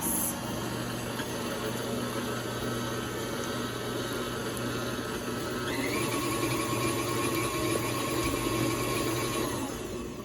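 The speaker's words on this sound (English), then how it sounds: "And I use the paddle and let that mix." A stand mixer fitted with a paddle attachment works homemade pizza dough, giving a steady motor whir with a faint rhythmic churn that holds even and unbroken, with a slight rise in pitch partway through.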